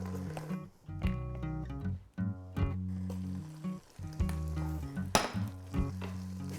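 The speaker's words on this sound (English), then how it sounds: "You can hear it sizzling." Dijon mustard sizzles in a hot pan for a Thanksgiving side dish, a soft, uneven frying crackle with faint clinks.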